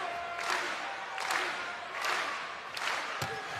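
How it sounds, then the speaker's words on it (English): Crowd ovation at a men's college volleyball match between Hawaii and UCSB, a sustained wash of applause and cheering across the arena with rising swells, steady throughout. "here's a strong, well-deserved ovation from the crowd"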